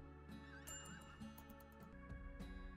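A horse in the video game RimWorld whinnies loudly with a wavering neigh, over steady background game music and faint hoof clip-clop, with no talk.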